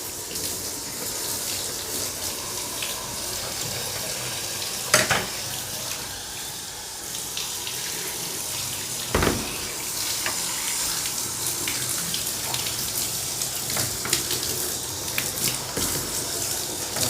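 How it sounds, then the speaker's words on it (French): Tap water streams steadily over the top leaves of an indoor houseplant, a continuous close splashing hiss broken by a couple of louder gushes, with no voices. "je rince uniquement sur le dessus"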